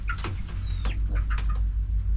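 Chickens clucking close by in short bursts and rising calls over a low, steady hum of wind or background noise.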